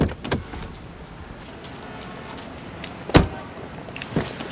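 A car door bangs shut sharply as someone jumps out of a car, a single loud close thud after softer handling knocks, with a further knock just after amid quiet interior background.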